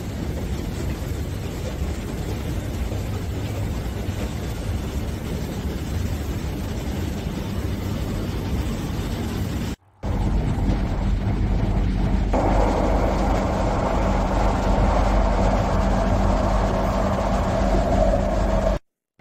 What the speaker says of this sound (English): Old subway car.